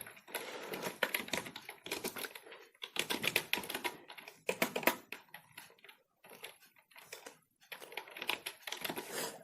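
Someone types C code on a computer keyboard in bursts of rapid key clicks, separated by short pauses. The sound is close and clear with no voice.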